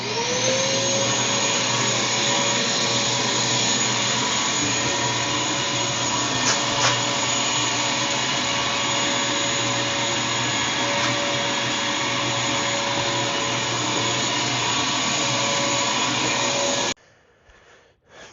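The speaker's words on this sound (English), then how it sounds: "Don't run an orbital sander inside your house on the drywall." An orbital sander runs on drywall inside a house, a steady loud broadband whir holding for about seventeen seconds before cutting off abruptly, leaving near silence.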